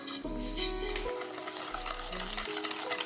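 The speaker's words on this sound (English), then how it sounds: "then whisk everything in" Brownie batter with eggs being whisked in a bowl, soft scraping and stirring under steady background music, with a faint sizzle-like texture throughout.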